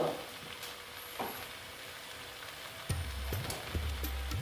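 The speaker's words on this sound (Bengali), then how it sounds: "দিয়ে একটু নেড়ে চেড়ে নিচ্ছি" Mixed vegetables for an onion-free Bengali vegetarian panchmishali dish are stirred in a pan: a few scattered spatula scrapes and light knocks over a soft, faint sizzle, with no talking.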